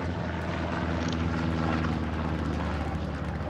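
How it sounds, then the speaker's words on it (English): A recon plane drones overhead in Hell Let Loose, a steady propeller engine hum that fills the whole stretch at moderate loudness with no pause. "have a recon plane coming in"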